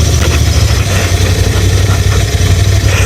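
A Royal Enfield Interceptor 650 motorcycle engine rumbles on continuously with a deep, throbbing low drone while riding, close and fairly loud with no clear break in the sound.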